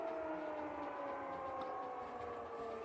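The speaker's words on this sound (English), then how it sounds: "the sirens going off" Sirens wail in a steady, faint, continuous tone on a street with police around, with a rumbling background beneath them and no talk.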